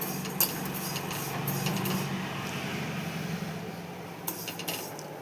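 Vermicelli (semiya) is stirred in a pan, with metal utensil scrapes and clinks over a soft frying background, a few sharper taps near the start and end.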